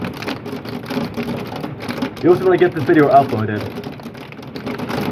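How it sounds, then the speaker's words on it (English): Marble-sized hail strikes a window during a severe thunderstorm with heavy rainfall, a dense continuous patter of hard ticks close by that carries on under someone talking. "Sounds like my window? That's hail."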